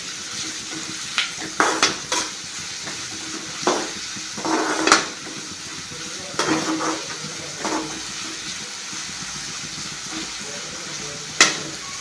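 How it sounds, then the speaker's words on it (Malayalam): Onions sautéing with salt in a pan for Kerala-style chicken curry, stirred with intermittent scraping and clinking strokes over a low sizzle, close, no talking. "ഒന്ന് വഴന്ന് കിട്ടുന്നവരേക്കും ഇതൊന്ന് ഇളക്കിക്കൊണ്ടിരിക്കുക"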